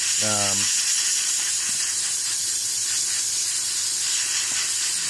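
An airbrush sprays paint onto a hobby model in a steady, continuous close hiss that runs through the whole span, with a brief low tone right at the start.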